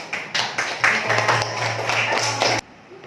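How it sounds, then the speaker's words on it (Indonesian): A class of schoolchildren claps for group 3 in a classroom, a brief burst of uneven hand claps with a low hum and some voices underneath. "Yuk, tepuk tangan untuk kelompok 3 hari ini."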